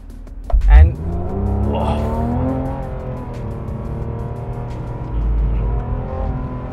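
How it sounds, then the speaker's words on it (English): A Porsche 911 GT3 accelerates hard on a handling course, its engine rising in pitch through the gears from inside the cabin while a person talks over it. "my first experience of the 911 GT3. So we are on this handling course"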